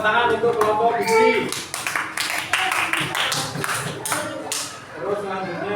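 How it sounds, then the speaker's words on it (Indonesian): A group of schoolchildren in a fourth-grade classroom clap together in quick, uneven bursts of sharp close slaps, with voices mixed in among the claps. "Beri tepuk tangan untuk kelompok biji."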